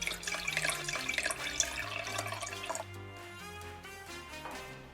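Wine pours into glasses at a resort tasting, a gurgling, trickling stream over a bed of soft music, close and steady, then thinning out as the pour ends.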